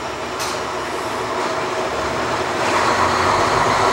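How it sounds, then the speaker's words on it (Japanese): A diesel JR Kyushu railcar that once ran in Shikoku, travelling in the Kumamoto area. Its engine and wheels give a steady, close drone and rumble from inside the car that builds slightly toward the end. "エンジンの音がね、JR 四国って感じがしますけど、"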